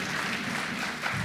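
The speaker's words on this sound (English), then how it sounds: "A round of applause for our DG." Audience at a book presentation and graduation lecture applauds steadily for about a second, a dense, even wash of clapping with faint voices underneath.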